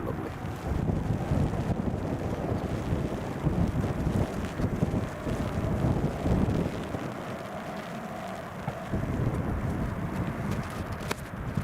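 Gusty wind at Newcastle International Airport buffets the microphone in a constant low rumbling roar that swells and dips but never stops.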